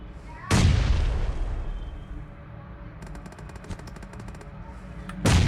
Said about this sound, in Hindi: पहले एक ग्रेनेड करता हूँ